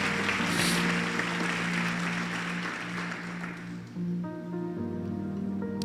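Church congregation applauding their praise to Jesus during a sermon, a dense sustained wash of clapping that fills the room and then tapers off as tonal organ or keyboard notes continue underneath.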